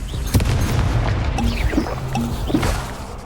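The Confringo fire spell going off in the video game Hogwarts Legacy, with loud, booming blasts and crashing impacts repeating over steady, dense game noise.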